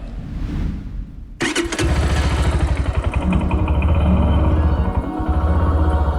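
A cafe racer motorcycle engine cranks, then bursts to life and runs steadily. The exhaust stays loud and close, with a rough, pulsing idle.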